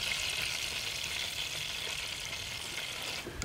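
A steak sizzles and fries steadily in a pan at a campsite after dark, a continuous close, bright crackle with no talking.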